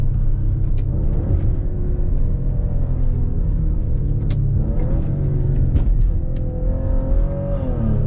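A Maserati Levante SUV is pushed hard through an S-bend, its engine making a loud, steady rumble from inside the cabin that rises and falls in pitch as it accelerates through the turns, with no talking.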